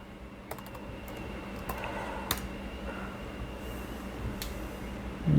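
Fingers tap out a password on a Lenovo Chromebook keyboard: a steady run of light, close plastic key clicks with a few sharper presses, alone in a quiet room.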